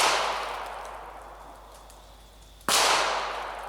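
Two sharp, loud shots from a Smith & Wesson Victory pistol firing 40 grain lead round nose rounds, each a cracking report followed by a decaying echo, spaced about two and a half seconds apart outdoors.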